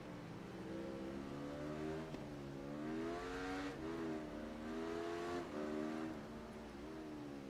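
Video game motorcycle from Ride 3, an Aprilia sportbike, engine revving and accelerating hard with rising and falling pitch sweeps as it shifts through gears, loud and continuous.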